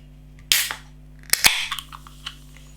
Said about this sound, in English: A little bit of smoke on the can opening